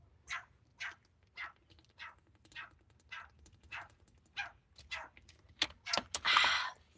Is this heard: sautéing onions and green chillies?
no